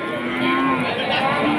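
Cattle low loudly and continuously at the Tuban cattle market in hot weather, several moos overlapping close by amid a crowded market din.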